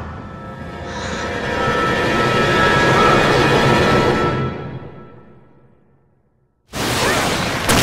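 An airplane roars past in the video game Resident Evil 6, a loud rumbling engine swell that builds, holds, then fades away before an abrupt new burst of noise cuts in.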